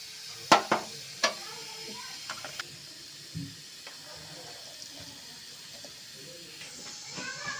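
Water drained from a pot of cooked rice for a Gujarati thali: a few sharp metallic clanks at first, then a soft, steady hiss of steam and pouring water, faint and close.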